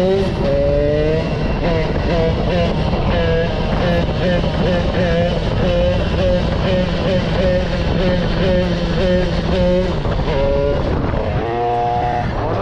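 A Derbi 80cc motorcycle engine roars loud and steady during a wheelie, the revs holding high with slight rises and dips, then shifting near the end, close and continuous throughout.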